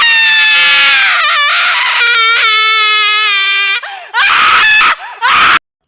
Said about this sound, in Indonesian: Namun tak lama disusul dengan suara jeritan histeris istrinya.